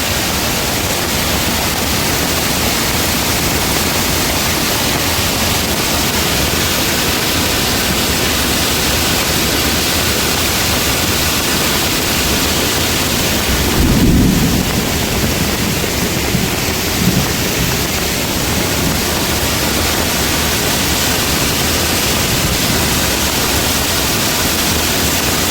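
A river swollen after its water level rose rushes past in a broad, unbroken roar, loud and close, with a short thumping disturbance near the middle and no voices.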